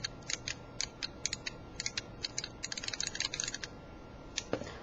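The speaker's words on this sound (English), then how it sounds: "It's really nice and clicky." Rapid, crisp clicking of a Neo Geo Pad 2 controller's directional pad, irregular bursts of small plastic clicks, close up, with a faint rustle near the end.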